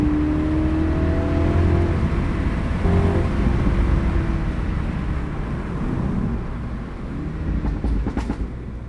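A tuned stage 1 MINI Clubman Cooper S (F54) engine drones steadily at high RPM while driving, a loud continuous rumble with rising and falling tones, no pops evident.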